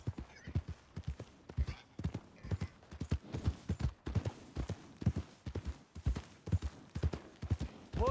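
Horse hooves clip-clop at a steady walking rhythm in the Red Dead Redemption 2 video game, close and distinct, with regular paired strikes and no talk over them.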